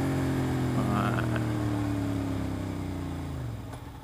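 A Suzuki SV650S motorcycle engine drones steadily at close range, its low harmonic hum holding then gradually easing off as the bike slows.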